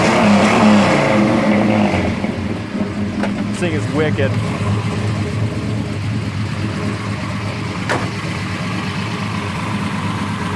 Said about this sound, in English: it's got such a nice exhaust sound